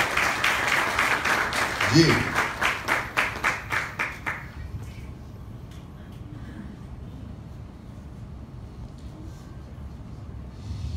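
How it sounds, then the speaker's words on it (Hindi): A church congregation claps in a rapid, even rhythm for a few seconds, then the applause stops and a quiet room remains with a voice speaking briefly. "Let's clap for them."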